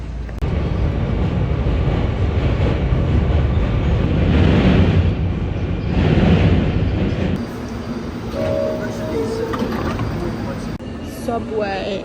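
A New York City subway train at Coney Island rumbles and rattles loudly along the tracks, with a steady roar, swelling surges and metallic screeching toward the end.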